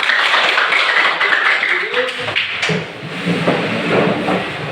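A group of hands tapping and clapping in a school setting, a dense, loud patter of claps filling the room with voices mixed in.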